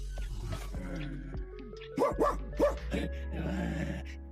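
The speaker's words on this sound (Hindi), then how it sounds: "सारे कुत्तों को बता दो कि खीखायोंग को देखकर भौंकना बंद कर दे।" A few short barks and yips from nearby dogs, bunched in the middle, over a low steady hum, in a Hindi-dubbed Korean drama scene.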